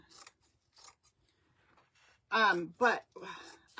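Scissors make a few quick, crisp snips through a square of burlap fabric at the start, followed by a pause and then a nearby voice talking.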